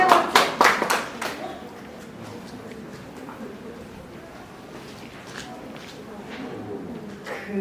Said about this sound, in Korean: 네, 박수 쳐주세요